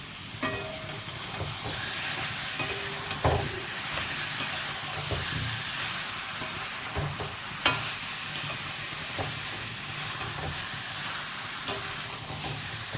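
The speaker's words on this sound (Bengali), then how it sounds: "আমি এবার ভেজে রাখা পটলগুলোও কিন্তু দিয়ে দিই দিয়ে ভালো করে একসাথে কষাবো" Fried pointed gourd and prawns are stirred together in a pan, giving a constant hissing sizzle with scattered spoon clacks and scrapes at close range and no voices.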